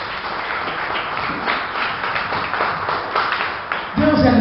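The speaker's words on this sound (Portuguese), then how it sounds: "Então aplauda o Senhor Jesus" Church congregation applauding together, a sustained wash of dense clapping at moderate level, swelling slightly toward the end as a voice and music enter.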